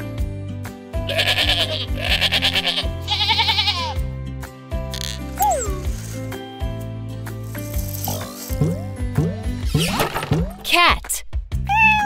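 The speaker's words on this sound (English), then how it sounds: "Goat." A goat bleats loudly several times in wavering, nasal cries over upbeat background music.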